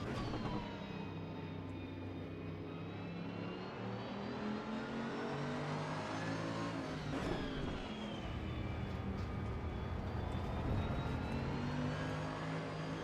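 A race car engine in the Assetto Corsa Evo video game drones and revs continuously, with steady rising and falling engine pitch through gear changes, loud and constant throughout with no talking.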